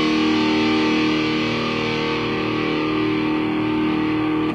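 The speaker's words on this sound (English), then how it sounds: "It gives you that really harsh, angry, just a distortion that just lasts for a few seconds" Harsh, aggressive distorted electric guitar tone holds steady and loud for several seconds as a metal-style sustained chord, then cuts off abruptly, with no talking.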